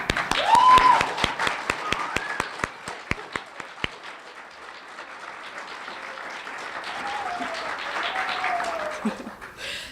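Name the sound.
audience applause for teachers at graduation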